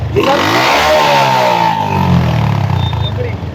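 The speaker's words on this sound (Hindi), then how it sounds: "क्या बनाया हुआ है इस मोटरसाइकिल को?" A motorcycle engine revs up loudly nearby, pitch climbing and falling, with a rough clattering idle underneath.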